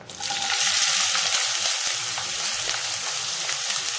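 Chopped onion dropped into hot oil for a prawn masala curry, giving a loud, dense, continuous frying hiss close up, with faint stirring underneath.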